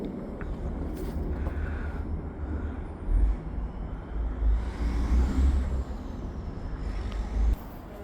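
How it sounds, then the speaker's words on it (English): A low rumbling hiss of a freight train's air brakes releasing, surging louder midway and then dropping off, over a steady engine drone outdoors in winter. "I just heard this train dump its brakes"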